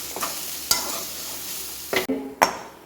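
Mango pickle seasoned with asafoetida and salt sizzles in a pan as a spoon stirs it, with a few sharp scraping strokes over constant frying hiss.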